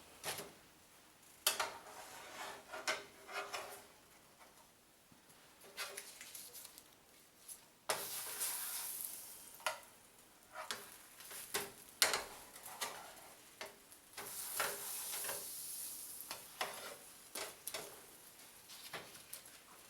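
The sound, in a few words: bread frying in butter in a pan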